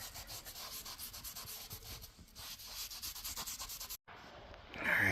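Rapid back-and-forth rubbing of a cloth working stain into a European oak floorboard, steady close scrubbing strokes for several seconds, a brief pause, then a louder swipe at the end.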